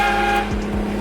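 Air-charged aftermarket train horn mounted on a Cummins pickup, a loud sustained blast with stacked steady tones filling the whole second, close and uninterrupted.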